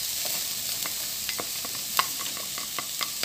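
Chopped onions stirred and fried in a pan, a steady close sizzle with light scraping strokes of a spatula repeating throughout, no voices.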